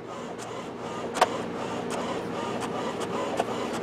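An inkjet printer loaded with HP 65 cartridges runs nearby, a continuous mechanical whir with a soft clack now and then as the carriage moves.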